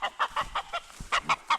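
A chicken clucks in a rapid series of short, close clucks, about ten in quick succession with a brief pause midway, and no talking over them.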